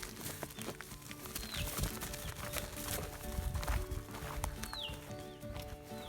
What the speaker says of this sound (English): Oh, the donkey's coming back.